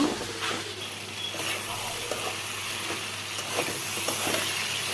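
Chopped ridge gourd sautéing in a pan with salt, turmeric and chili gives a steady, moderate sizzle, with a few soft stirring scrapes scattered through it and no talk.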